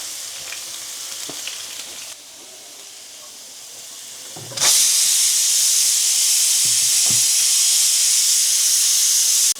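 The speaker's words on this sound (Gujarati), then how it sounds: "તો અહીંયા મેં આદું અને લીલા મરચાં આપણે તેલમાં કૂક કરી નાખીએ ધીરે ધીરે" Grated ginger and finely chopped green chilies cook slowly in hot oil with asafoetida for samosa filling. A soft frying hiss with a few clicks suddenly swells into a loud, steady sizzle when the ingredients go into the pan.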